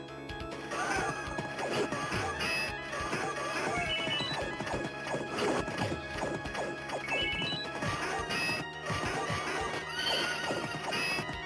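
A horse in the arcade game Knights of the Round whinnies and gallops amid loud clashing combat effects and game music, with hoofbeats clip-clopping throughout.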